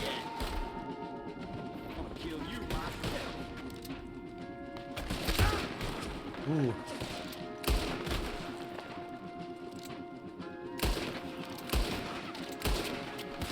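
Gunfire during a camp raid in Red Dead Redemption 2, scattered shots and bursts cracking out at intervals over a busy background of game ambience, with no talk over it.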